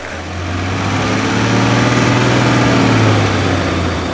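A six-cylinder diesel engine in an Ineos Grenadier runs loudly and steadily, a smooth low drone that swells slightly as it revs, recorded close up.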